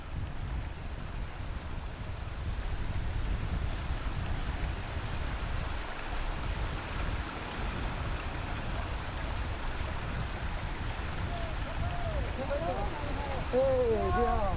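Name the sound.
waterfall flowing between rocks at Jiuzhaigou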